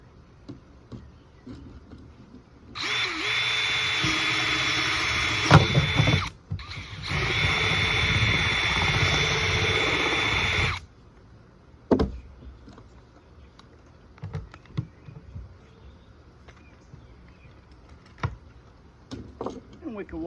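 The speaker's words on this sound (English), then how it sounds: "I can't drill in the center of this" A power drill bores into a part for a rabbit watering system in two sustained bursts of whirring, briefly stopping between them, followed by scattered clicks and knocks of handling.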